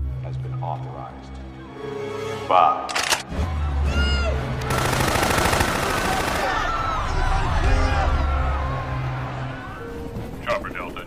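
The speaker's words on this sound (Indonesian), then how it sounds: "para militer pun mengancam mereka dengan cara melepaskan tembakan" Gunfire from soldiers in a zombie film: bursts of rapid automatic shots and scattered single cracks over a dense, noisy action mix, with a voice narrating over much of it.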